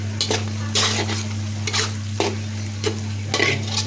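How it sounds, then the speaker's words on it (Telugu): Onions and peanuts fry in hot oil with a steady close sizzle, broken by repeated scraping strokes of a utensil stirring the pan. "అన్నీ మంచిగా నూనె వల్ల ఉల్లిగడ్డ పల్లీలు ఇవన్నీ ఉడుకుతున్నాయి."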